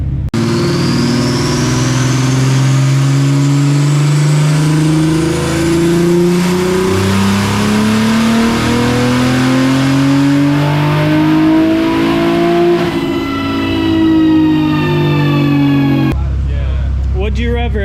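A turbocharged B58-engined 340 being built toward 1000 hp revs loudly past 7000 rpm, its engine note climbing steadily over many seconds before cutting off abruptly near the end.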